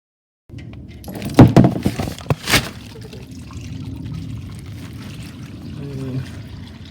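Engine oil drains from the plug hole of a 2011-2017 Kia Optima, a steady pouring trickle close by, with a couple of louder splashes and clatters near the start and a faint voice near the end.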